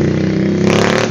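A car starter motor cranks, wired to run from a switch instead of its relay after low supply voltage left it struggling; a loud, continuous grinding whir with a rapid mechanical pulse, close and steady throughout, with no voices.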